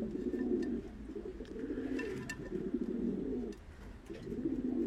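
Pigeons, a male and female pair, coo softly in repeated low rounded phrases with brief pauses, fairly quiet and close, with a few faint chirps in between.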